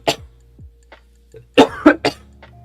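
Several sharp coughs from a person working on technical tasks, two or three close, loud bursts following a quieter throat sound and breath, with no speech.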